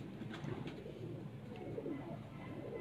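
Pigeons cooing on a rooftop breeder loft in Punjab, where old fancy pigeons are kept; low soft coos repeat close by over a quiet background, with no talk.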